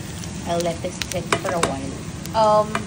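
Sisig sautéing in a pan, crackling sizzle with stirring clatter and utensil knocks against the pan, close and fairly loud, with a voice speaking over it.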